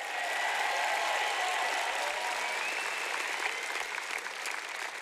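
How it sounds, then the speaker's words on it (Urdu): A church congregation applauds loudly and continuously, a dense wash of many hands clapping at close range with no pauses. "کم آن، خدا کے لیے بہت سی تالیاں بجائیں"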